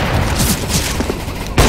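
Sniper rifle shots in the video game CS:GO, a dense run of sharp reports and booming blasts with a loud final shot, up close and without speech.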